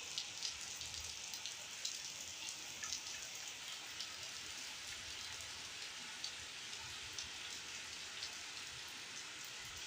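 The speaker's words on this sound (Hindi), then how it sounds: "बहुत शदीद बारिश शुरू हो गई है" Steady, heavy rain in Lahore hissing and pattering across surfaces, a dense continuous wash with no voices, holding at an even level throughout.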